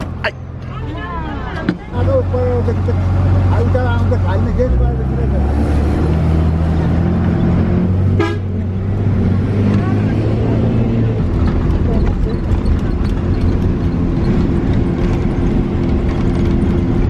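A crowded bus rumbles along on a ride in Nepal, its engine droning and shifting pitch steadily throughout while passengers chatter and a voice talks over the noise.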